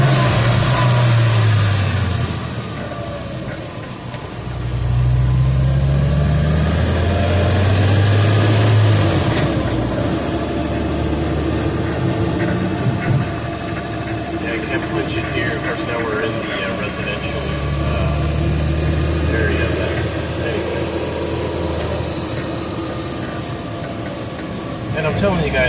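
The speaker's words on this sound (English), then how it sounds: "Raw, flat six noises" A Porsche Boxster S flat-six engine runs loud and close, with rising and falling revs and low throbbing surges as the car drives, the engine tone filling the whole stretch.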